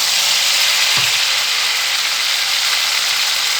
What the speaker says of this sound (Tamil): இப்போ வெங்காயம் ஓரளவுக்கு வதங்கி வந்துருச்சு.